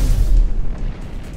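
A spaceship blowing up after being shot down in No Man's Sky: a loud, deep rumbling blast that fades and rolls off over about a second, with no voices.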